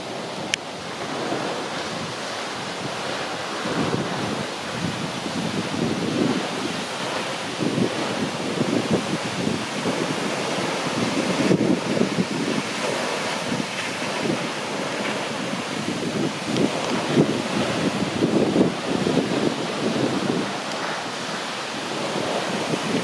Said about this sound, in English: New Zealand's second largest waterfall that bears his name